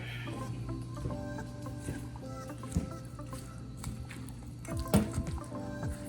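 Tropical pico de gallo salsa with mango and habanero stirred in a bowl, wet squishy squelches and soft clicks of a spoon, close and quiet.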